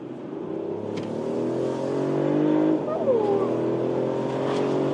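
A Mercedes CLE Cabriolet pulls hard in sport mode from about 40 to 115 km/h. Engine tone climbs steadily, drops briefly at a gear change and resumes, heard loud from the cabin.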